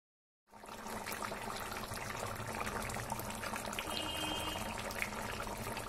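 Water pours steadily into a pot of Bengali jackfruit and potato curry, with an even splashing rush that starts after a short silence and keeps going to the end.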